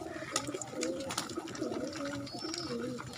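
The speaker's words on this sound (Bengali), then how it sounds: "এখানে যেসব কবুতর আছে দেখা যায় সবই দেশি জাতের কবুতর" Native breed pigeons on an open rooftop, several birds cooing in soft, repeated throaty rolls close by, with light rustling and faint background noise.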